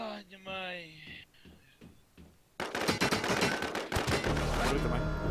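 Rapid bursts of video game gunfire crackle loudly in a dense volley, following a stretch of excited talking.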